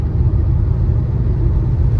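Steady low engine rumble heard from inside a red Mercedes W124 driving on a hot 30°C day, a continuous dense drone with no talk over it.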